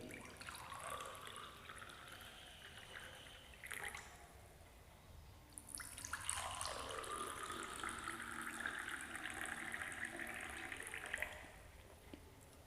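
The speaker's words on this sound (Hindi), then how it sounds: "यहाँ पर हम पानी के जग से दोनों ही गिलासों में जल भरेंगे" Water is poured from a jug into two glasses in turn: a steady trickle and splash into the first glass, a brief pause, then a second longer pour that fills the other glass, close and unaccompanied by speech.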